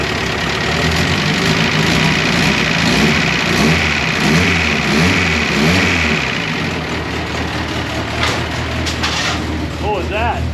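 A rebuilt Fiat 124 engine runs loud and close, revving up and down through several throttle blips over a rough idle, while people talk near the end.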